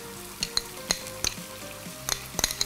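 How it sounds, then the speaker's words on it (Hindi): Chopped garlic, ginger and onion sautéing in a pan for vegetable momos, a steady oil sizzle punctuated by sharp clinks and scrapes of a stirring spoon against the pan, close and alone with no talking. "ये सारी चीज़ें थोड़ा सा भुनना शुरू हो जाएं तो फ्लेवर आना शुरू हो जाएगा।"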